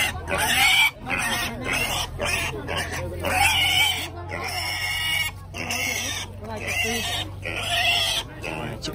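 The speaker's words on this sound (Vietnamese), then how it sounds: "Bên này lợn giống đẹp các bạn ạ." Breeding pigs at a highland market in Vietnam grunt and squeal loudly and repeatedly up close, while people talk over the busy livestock trading.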